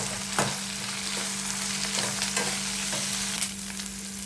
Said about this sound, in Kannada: ಇದಿಷ್ಟನ್ನು ಸ್ವಲ್ಪ ಚೆನ್ನಾಗಿ ಆಯಿಲಲ್ಲಿ ಫ್ರೈ ಮಾಡ್ಕೊಂಬಿಡೋಣ ಇದನ್ನು